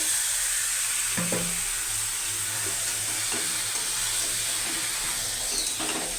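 Marinated chicken added to a pan of sizzling onion, ginger, garlic, green chilli and spice masala for a Goalondo steamer chicken curry, with a steady loud hiss of frying and a few soft clatters.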